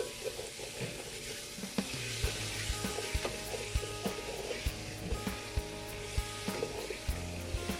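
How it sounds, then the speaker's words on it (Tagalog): Chopped garlic and onion fry steadily in hot oil, a close continuous sizzle broken by regular clinks and scrapes of a utensil stirring in the pan, with no talking. "nilagay na yung oil, chopped garlic at saka yung onion dito"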